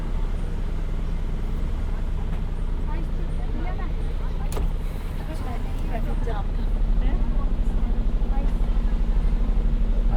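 Traffic jam around a 23-year-old Maruti 800 running on E20 fuel, a steady low engine and road rumble with surrounding vehicles and scattered horns and clatter, while people talk over it.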